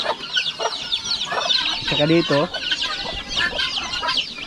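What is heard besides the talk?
ducklings peeping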